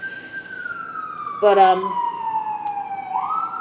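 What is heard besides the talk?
ambulance sirens passing near a hospital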